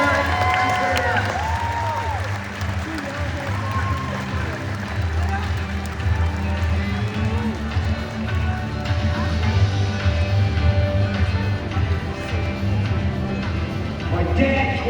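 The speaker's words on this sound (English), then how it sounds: "please join me in a big round of applause for Charlie" Steady applause and scattered cheering from a large outdoor audience at an Australia Zoo crocodile show, with a presenter's amplified voice over the clapping.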